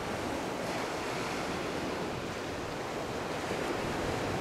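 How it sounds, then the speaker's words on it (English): Ocean surf and wave action, a continuous broad roar of breaking waves with some wind noise, steady and loud with no voices. "of the ocean, the surf and the wave action"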